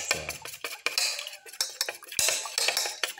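A fork or spoon beats the yolks and whites of eggs together in a bowl for a black pepper ginger omelette, giving quick, irregular clinks and scrapes against the bowl, close and fairly loud.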